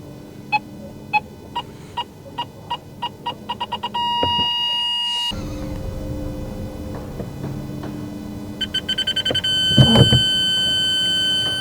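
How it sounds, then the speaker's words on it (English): Electronic beeps from an aftermarket parking sensor system on a Fiat 500e sound in a steady series that speeds up into a rapid run, then pause and return as quick bursts, over a low engine hum. "You get the beeps going forwards and backwards"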